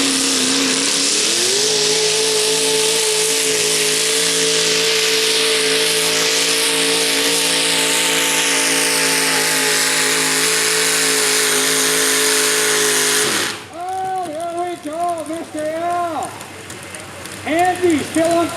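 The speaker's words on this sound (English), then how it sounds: "an alcohol injected 638 cubic inch Chevy" An alcohol-injected 638 cubic inch Chevy engine in a modified 4WD race truck, screaming at full throttle as a sustained, loud, steady howl that cuts off suddenly near the end and gives way to a rough, choppy idle.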